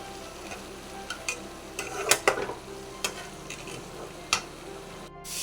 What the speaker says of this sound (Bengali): এবার এখানে এক এক করে মাছগুলো আমি ছেড়ে দেব।